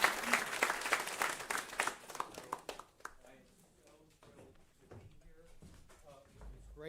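Audience applause for a moderator at a climate action panel on food waste, fairly quiet clapping that fades after about three seconds, followed by faint room noise and a voice.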